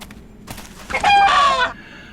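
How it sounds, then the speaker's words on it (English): A chicken in the Neverwinter Nights game clucks and squawks in a short, loud burst, with fainter rustling sounds before it. "the loose beak of a clucking chicken"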